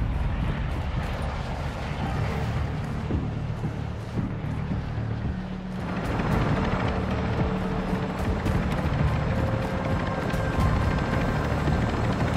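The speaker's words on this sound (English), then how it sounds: "the enemy attack helo is approaching your location" An enemy attack helicopter in Call of Duty Modern Warfare II, its steady rotor drone and engine roar sustained throughout, swelling louder and nearer about halfway as it closes in.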